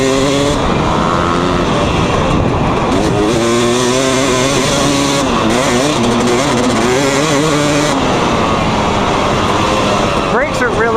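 A 250cc two-stroke dirt bike revs hard while being ridden, its engine pitch rising and falling in quick surges, loud and close, with wind rush mixed in.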